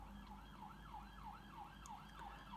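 An emergency vehicle siren wails outside in a steady rising-and-falling cycle, somewhat distant and muffled, over a low constant hum, with no talking.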